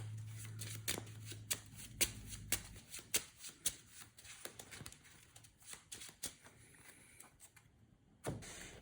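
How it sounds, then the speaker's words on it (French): A deck of Marvel Champions game cards is shuffled by hand in a quiet room, giving a series of soft, rapid riffling flicks and taps at close range with no speech. "Je vais aller rechercher le vibranium et je vais la remettre dans mon deck et remélanger."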